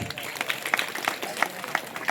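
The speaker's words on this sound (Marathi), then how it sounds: "टाळी वाजवा दादांसाठी जोरात" An audience claps loudly and raggedly at a comic devotional performance for about two seconds, in a lively burst of applause.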